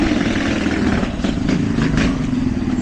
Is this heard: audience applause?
no